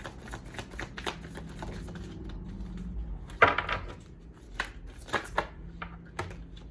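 Tarot cards being shuffled by hand, soft riffling and crisp slaps in quick irregular bursts, close and fairly quiet, with one sharper snap partway through.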